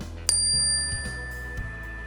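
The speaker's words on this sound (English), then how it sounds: "I will ring my bell." A teacher's bell in an elementary art classroom gives one sharp, bright ring that hangs on as a clear ringing tone and slowly fades, with faint room sounds and no talking.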